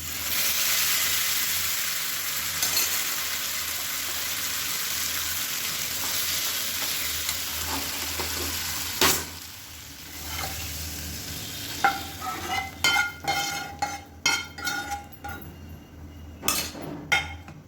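A hot tempering of onion and garlic sizzles loudly as it is poured and stirred into sambar, a steady bright frying hiss that fades, followed by scraping and clinking of a metal spoon against the pot.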